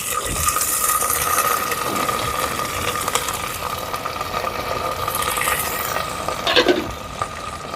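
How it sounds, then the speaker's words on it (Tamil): Small shallots, whole garlic cloves and green chilies sauté in a pan for a Jaffna-style Maldives fish dish, giving a steady broadband sizzle throughout, with a brief louder scrape or stir near the end. "இப்போ வெங்காயம் எல்லாம் நல்லா வதங்கி வருது"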